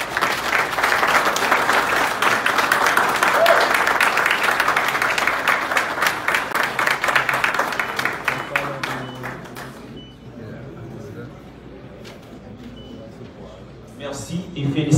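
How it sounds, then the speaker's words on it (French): Audience applause at a formal ceremony honouring an official, dense clapping for about nine seconds that thins and fades, followed by quieter room sounds and brief speech. "sous vos applaudissements"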